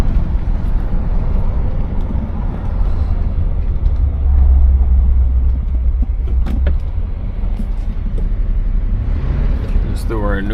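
A 1966 Cadillac Eldorado engine rumbles low and steady from inside the car while driving at around 35 mph. A voice is heard over the continuous road noise.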